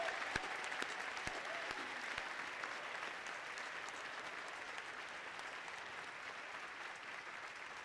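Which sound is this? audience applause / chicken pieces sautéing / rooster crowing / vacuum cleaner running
audience applause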